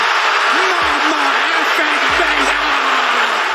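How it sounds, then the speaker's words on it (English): Wrestling crowd at NXT TakeOver New York erupting in loud, dense, continuous cheering and roaring throughout, with a commentator's voice shouting over it. "Just listen to the crowd explode over the top of incredible commentary from Mauro Ranallo"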